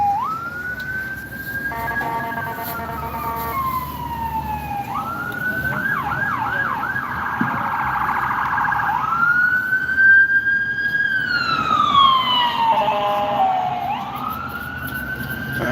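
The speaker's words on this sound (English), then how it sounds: "Got an ambulance coming through too." An ambulance siren passes on a street near a taco vendor's stand at a shoe store, loud and close, with sweeping wails that shift into rapid yelps and back, above background traffic noise.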